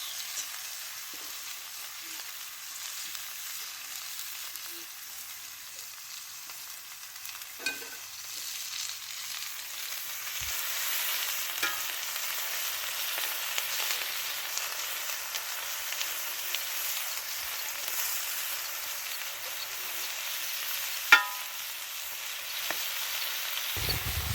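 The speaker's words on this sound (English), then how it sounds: "Peppers in there, and onions." Peppers and onions fry in a cast iron skillet over a campfire, giving a soft, steady hiss of sizzling with occasional faint crackles and clinks, moderately distant.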